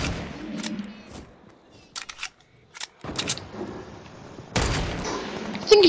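Bursts of automatic gunfire and scattered shots from the video game Fortnite, loud and choppy with brief gaps, ending in a heavy sustained volley.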